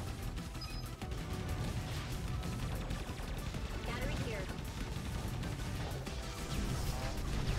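Rockets fire and blast in a fast-paced video game, with loud, dense crashes and bangs churning continuously over a busy game mix.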